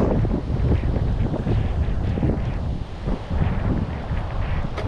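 Strong wind blows steadily outdoors near a bonfire, a loud continuous rumble and gusting buffet across the microphone with no speech.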